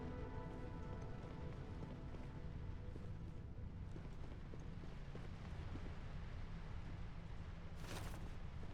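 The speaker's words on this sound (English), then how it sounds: "Oh, Sarah, it's raining" Steady rain in the video game Starfield patters continuously on a surface, an even hiss with faint drips throughout, soft and unbroken from start to finish.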